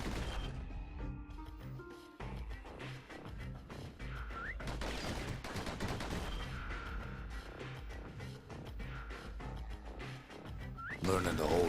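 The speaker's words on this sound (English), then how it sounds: "Those pistols could spit out rounds just as quick as you could pull the trigger." Rapid pistol fire in the Bastion video game, a quick run of sharp shots layered over game music and effects, with a voice speaking over parts of it.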